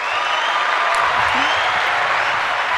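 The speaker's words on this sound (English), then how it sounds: "let's give you a round of applause" A studio audience claps steadily and densely for a guest on a podcast, an even wash of applause lasting the whole stretch with no talk over it.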